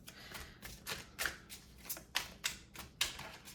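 Tarot cards being shuffled by hand for a pick-a-card reading: a steady run of crisp, riffling flaps and taps, roughly three per second, close and fairly soft with no talking.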